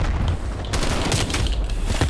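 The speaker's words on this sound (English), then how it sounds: "I'm shooting these guys in the head" Dense, rapid gunfire from Call of Duty: Black Ops Cold War, with overlapping automatic bursts and booming reports that run loud and continuous through the whole moment.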